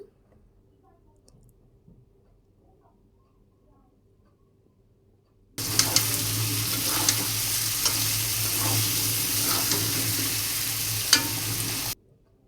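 Chopped garlic and cubed onion hit a hot pan, a sudden loud sizzle that holds steady for about six seconds with occasional spatula scrapes, then cuts off, after quiet room tone.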